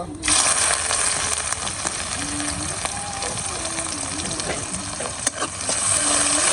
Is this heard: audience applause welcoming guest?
no